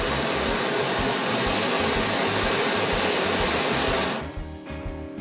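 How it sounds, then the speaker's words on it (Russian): A portable camping gas burner roars with a loud, steady broadband hiss for about four seconds, then cuts off abruptly, leaving a quieter low murmur. "Все, вот наша горелка отлично работает, все хорошо."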